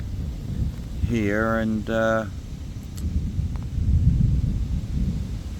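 Thunder rolls during a summer thunderstorm at Atlantide Lake in Italy, a low broadband rumble swelling toward the end over steady outdoor background, with someone briefly talking near the start.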